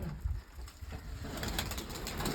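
A pigeon perched on clay pots in a loft coos softly in short, low bursts against a steady, noisy hiss of background sound.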